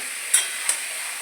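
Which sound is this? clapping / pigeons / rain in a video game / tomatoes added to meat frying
tomatoes added to meat frying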